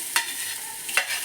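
Garlic, ginger and onion frying in a pan for Mangalorean chicken sukka give off a soft, steady sizzle, with two brief scraping stirs of a spoon against the pan, heard close with no talking.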